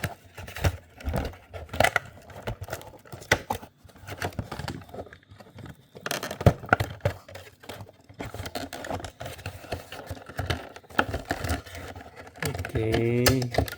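Plastic toy packaging for a Hot Wheels Iron Man launcher set being ripped open by hand, a close run of crackling tears and rustles with brief pauses.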